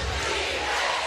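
A basketball arena crowd at a Hampton versus North Carolina A&T college game roars in a dense, sustained wall of cheering and yelling that holds steady throughout, loud and close.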